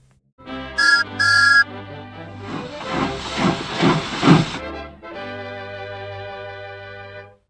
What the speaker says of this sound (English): Then Gordon heard a whistle.